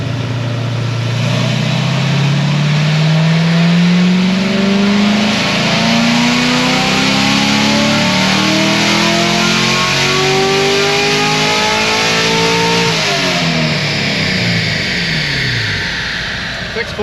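Naturally aspirated LT1 V8 in a Chevrolet Corvette C7 Grand Sport on a dyno, a loud, steady pull with engine pitch climbing continuously for most of the run before easing off near the end.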